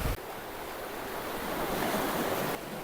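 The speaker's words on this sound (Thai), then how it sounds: "หรือเราเป็นคนชอบฟังเสียงคลื่นวะ" Ocean waves wash onto a clear-water beach near Khao Laem Ya in Rayong, Thailand, as a steady, close roar of surf with some wind noise, continuous for the whole stretch and with no one talking.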